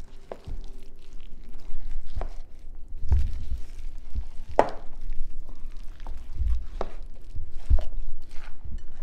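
Potato being stirred into thick pakora batter, a series of soft wet thuds and squelches about once a second, close and moderately loud, with no talking.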